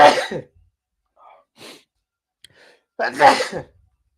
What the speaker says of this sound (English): Been sneezing a lot all day today